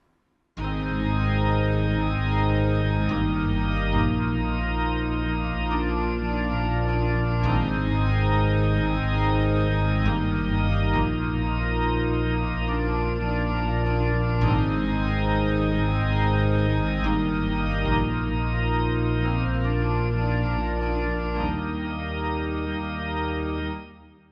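Organ and piano play the chorus of a song together, full and loud, sustained chords layered over a steady rhythmic pattern for about twenty seconds, with no voices.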